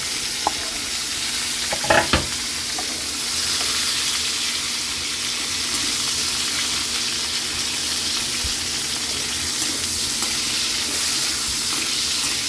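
Ginger, garlic, onion and tomato sauté together in a hot oiled pan with a steady close sizzle and occasional stirring scrapes, and no talk over it.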